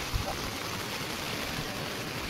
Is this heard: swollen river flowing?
yes